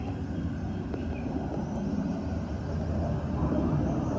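A steady, low rumbling roar of an airplane passing overhead, continuous and broad, with no voices.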